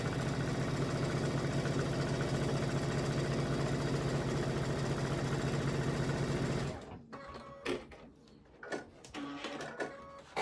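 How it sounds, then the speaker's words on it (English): A sewing machine stitches quilt pieces together in a steady, fast, close mechanical whir for about seven seconds, then stops, leaving faint handling noises and fabric rustle. "I'm going to take this piece and this piece, and I'm going to sew this together."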